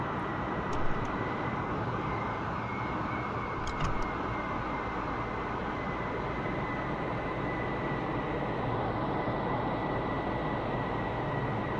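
An F-14 Tomcat jet taxis in the DCS flight game, giving a steady, dense engine roar with a constant high whine on top. A few faint clicks come through and no one speaks.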